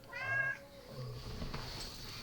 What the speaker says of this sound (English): The cat's chirping me.